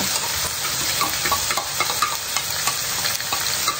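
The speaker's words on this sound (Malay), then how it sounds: "Kemudian saya masukkan cili kering yang dah saya kisar." Boiled, ground dried chillies are stir-fried in a pan for a wedding-feast dish, giving a steady bright sizzle with scattered spatula taps and scrapes throughout.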